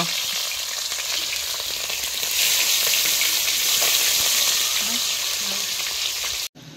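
Khainga fish sizzling and frying in hot oil in a pan over an outdoor wood-fired stove, a loud, steady crackle close by that swells slightly midway and stops abruptly near the end, with no talking.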